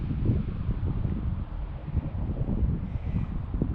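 Outdoor wind buffets the microphone in low, rumbling gusts, a continuous muffled roar with uneven surges and no voices.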